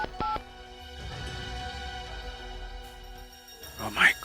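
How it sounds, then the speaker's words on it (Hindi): A few short telephone keypad tones beep as a number is dialed on a phone, quick separated presses near the start and end, with a low murmur of background sound between them. "दया को फोन करके बता देता हूं कि मैं कहाँ हूं।"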